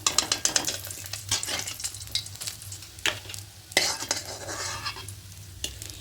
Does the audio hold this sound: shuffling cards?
no